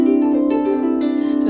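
Harp notes moving through a five-note pentatonic scale, skipping the fourth and seventh degrees, each plucked tone ringing into the next in a steady, close, solo line with no talking.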